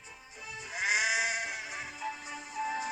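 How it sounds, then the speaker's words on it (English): A sheep bleats loudly and close by, a long wavering cry followed by a shorter second bleat. "Some careless sheep had strayed onto the line."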